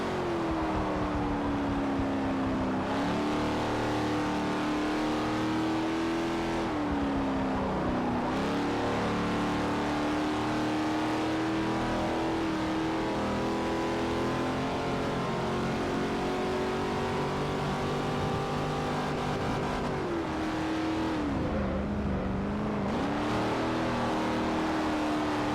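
A classic Pontiac in Forza Motorsport 4 holds a loud, steady engine drone, with the pitch rising and falling through gear changes and shifting revs over a long run of driving.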